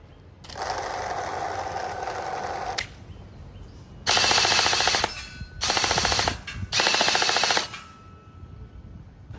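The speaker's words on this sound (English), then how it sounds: "the M4A1 gel blaster does not fire so consistently" An M4A1 gel blaster toy gun fires in full-auto bursts, a rapid buzzing rattle in four bursts of uneven length separated by pauses, close and fairly loud.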